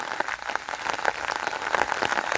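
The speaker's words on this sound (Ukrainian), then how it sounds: "а це буквально хвилин 5-10 така злива впустилася" Heavy rain downpour pelting down as a dense, continuous hiss with scattered sharper drop impacts, close and loud with no voices.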